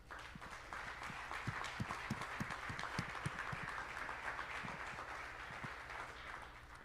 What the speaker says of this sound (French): Je voudrais qu'on les applaudisse très fort.